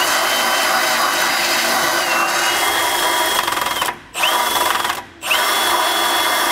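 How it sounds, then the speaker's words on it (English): Power drill enlarging a bolt hole in metal while fitting a Curt front-mount trailer hitch receiver on a 2003 Winnebago; a loud, steady whine runs continuously, dropping out briefly twice near the end before resuming. "So if you had a power tool like this, it definitely helps speed things up."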